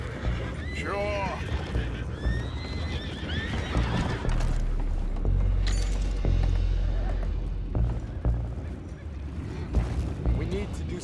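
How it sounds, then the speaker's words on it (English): Horses whinny and neigh in a Red Dead Redemption 2 scene, several shrill calls early and again near the end over hoof clip-clop and outdoor rumble, with voices talking in between. "Horses down below."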